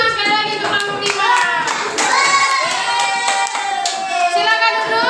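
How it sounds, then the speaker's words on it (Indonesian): Primary school children in a classroom clap in unison for a student group, with overlapping excited shouts and chatter from the kids riding over the steady hand claps throughout. "kita kasih tepuk tangan sekali lagi untuk kelompok 5"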